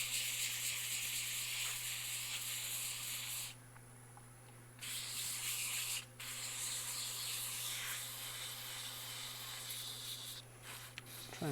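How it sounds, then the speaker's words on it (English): Wet sanding a resin mallet by hand with 220-grit paper, a continuous soft hissing scrape with brief pauses, under a steady background hum and no speech. "we're starting with 220 with the wet sanding here."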